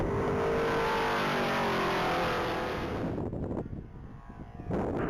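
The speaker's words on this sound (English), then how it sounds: "Rich Waltrip and his white 2007 Ford Mustang get ready to take off from the line." A white 2007 Ford Mustang launches hard at a top speed mile race, its engine roaring loud and close before the sound drops away and then swells again near the end.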